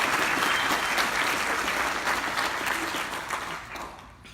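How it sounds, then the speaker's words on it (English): An audience at a congressional district Democrats awards event breaks into loud, sustained applause that fills the room, then tapers slightly toward the end. "Give her another round of applause, please."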